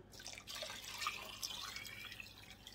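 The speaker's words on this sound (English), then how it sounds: "I'm probably going to add about 4 more cups of water to this" Water is poured into a pot of chicken noodle soup, a close, steady splashing pour lasting a couple of seconds with no talk.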